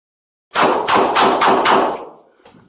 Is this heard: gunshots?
yes